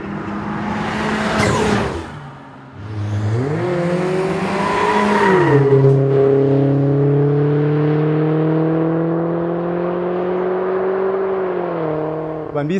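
A Volvo Drive-E four-cylinder car engine revs hard, then settles into a steady, smooth drone that holds for several seconds before briefly rising again.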